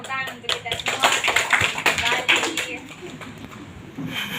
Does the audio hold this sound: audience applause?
yes